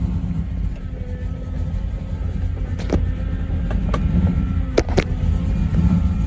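Holden HQ car engine running with a rattling flex plate, a steady low rumble with a faint metallic rattle and a few sharp knocks and clunks near the end, without talk.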